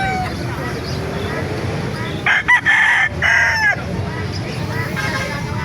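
A fighting rooster crows loudly nearby in a couple of drawn-out calls, over murmuring voices and outdoor noise at a rooster market in Calumpit, Bulacan.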